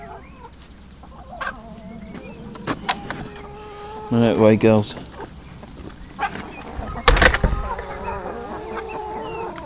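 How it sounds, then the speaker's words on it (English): Hens cluck and squawk in short bursts close by, with a loud flurry of clucking midway, while a person talks intermittently. "Chickens."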